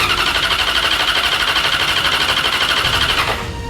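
A Yamaha R6 motorcycle with an SC Project exhaust revs hard and loud at close range, a steady high-pitched rasping drone held for about three seconds before dropping back.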